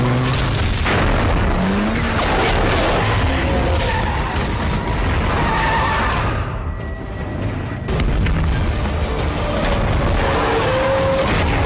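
An out-of-control truck races down a steep road in the film Fast & Furious 4, with loud roaring, skidding and heavy booms, a short lull midway, then the rumbling action returns.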